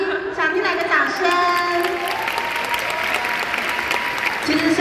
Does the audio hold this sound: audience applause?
yes